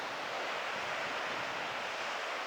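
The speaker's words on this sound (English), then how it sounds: "the sea splashing around it" Sea waves splashing against a misty coastline around an old mine at the cliff edge, a steady, dense wash of surf with no breaks.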